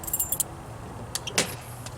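A freshly cut set of RV keys jangles in several short metallic bursts, close and fairly quiet, over a low steady hum.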